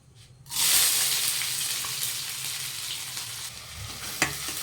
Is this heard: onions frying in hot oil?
yes